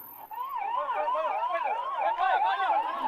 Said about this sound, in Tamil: ஆம்புலன்ஸ் வழி விட்டுருங்க.